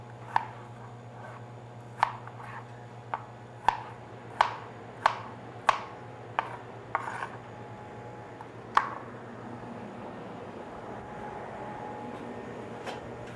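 A knife dices ingredients into cubes on a cutting board in a pastry chef's kitchen demonstration: about a dozen crisp, moderately close chops in an uneven rhythm over a steady low hum, then quieter.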